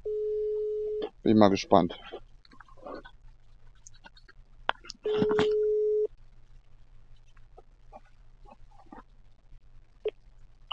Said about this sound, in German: So, dann rufe ich jetzt mal an.